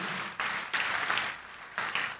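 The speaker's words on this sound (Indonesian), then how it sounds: "Tepuk tangan yang meriah buat Tuhan Yesus" A church congregation applauding during a sermon, bursts of dense clapping that swell and cut off in several short waves, fairly close and without talk.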